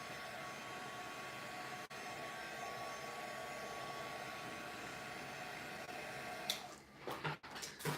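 A heat tool warms the back of a handmade card with a steady, close whirring blast of hot air, broken near the end by brief handling clatter.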